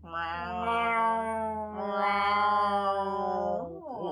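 A long, drawn-out cat meow with a second rising phrase, close and clear, ending in a brief downward slide; no talking.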